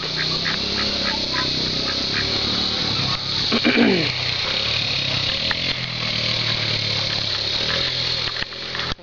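Ducks quack and honk repeatedly over a constant background drone, with one louder, drawn-out call standing out near the middle.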